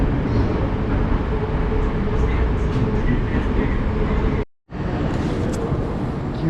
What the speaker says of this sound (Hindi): मेट्रो मस्त आवाज़ भी करती है, टनल में से गुजर रहे हैं।